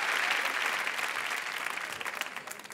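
A studio audience at a comedy show breaks into applause and cheers, a dense wash of clapping that is loud at first and slowly tapers off, with no talking over it.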